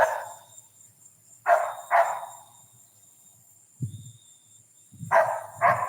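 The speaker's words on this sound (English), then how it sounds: "Hold on, my dogs are barking." Dogs bark in short bursts: a couple of sharp barks, a pause, a low woof, then two more barks, fairly close and clear.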